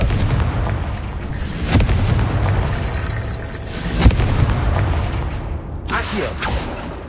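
Booming blasts from a Confringo fire spell in a Hogwarts wizarding game, several loud bursts rumbling over a dense battle din, with a sharp peak near the middle and another flare toward the end.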